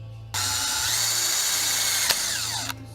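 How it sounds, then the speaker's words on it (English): A power drill bores a small hole, one steady high whine lasting about two seconds with a brief click near the end, close and loud with no talk. "drill a hole, a small hole"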